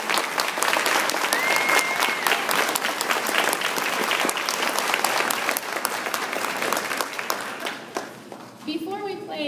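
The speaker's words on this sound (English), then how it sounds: "Let's give them another round of applause." A concert audience gives an orchestra a long, hearty round of applause, dense clapping that carries on steadily before tapering off near the end as a voice begins to speak.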